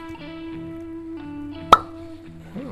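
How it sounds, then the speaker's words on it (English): A cork popped from a bottle of Big Creek Single Barrel Georgia Straight Bourbon Whiskey gives one sharp, close pop over a soft, steady tonal hum in the background. "All right, I'm gonna pop the cork."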